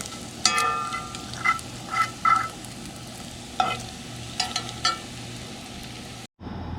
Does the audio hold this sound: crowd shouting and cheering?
no